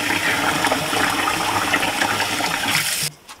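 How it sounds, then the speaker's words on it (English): Cold water gushes steadily as conch is rinsed and drained through a colander, a loud continuous splashing rush that cuts off abruptly near the end, leaving near silence. "I'm using a colander to help drain it."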